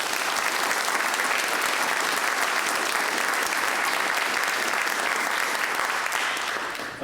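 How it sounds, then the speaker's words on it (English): A junior college commencement crowd applauds the faculty and counselors, a loud, dense field of clapping hands that stays steady for about seven seconds, then begins to thin at the end. "let's give them a round of applause."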